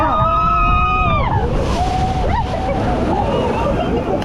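Water crashes and sloshes loudly over riders in the back row of the Anaconda double-drop log flume, a broad surging splash after screams fade, with people shouting and chattering throughout.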